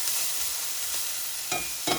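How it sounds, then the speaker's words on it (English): Meat sizzles steadily in a hot pan as it begins to brown in a Japanese home kitchen, a close, even frying hiss with a couple of brief stirring bursts near the end and no talking. "So wait till it sizzles."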